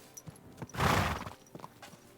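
Horse hooves clip-clop during a ride in the video game Kingdom Come: Deliverance II, a few soft steps around a louder snorting whinny burst, close and with no talk.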